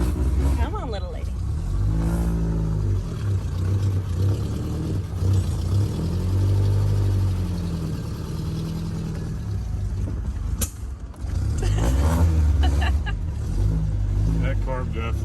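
An MG Midget engine with a carburettor needing work runs close by with a loud, uneven drone and swells of revving, while people talk over it.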